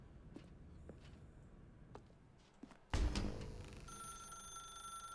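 A telephone in the video game The Stanley Parable starts ringing suddenly and loudly midway, a sharp electronic bell tone that keeps sounding over a dim ambient background.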